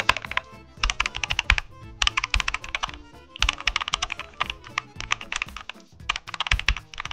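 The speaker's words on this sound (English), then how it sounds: "Type the following command." Bursts of rapid keystrokes on a computer keyboard, entering a Windows command-line instruction, come in several quick clusters with short pauses between them, clear and close with no talking.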